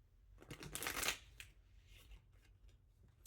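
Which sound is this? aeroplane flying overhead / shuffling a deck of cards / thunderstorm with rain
shuffling a deck of cards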